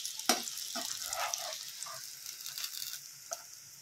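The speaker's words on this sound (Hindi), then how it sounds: "इसे हम अच्छे से फ्राई कर लेंगे, उसके बाद इसे निकाल देंगे।" Stuffed chilli fritters (bharwa mirchi pakoras) sizzle and crackle steadily in hot oil, with a few sharper pops and light stirring sounds, close and continuous without any talk.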